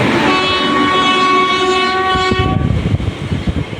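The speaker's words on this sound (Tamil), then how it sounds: "இந்த வண்டி நாகர்கோவில் எக்ஸ்பிரஸ்ஸு" A Nagercoil Express train sounds a long, loud horn with steady tonal bands while waiting at a level crossing, then the horn stops and the train's rumble and wheel clatter carry on close by.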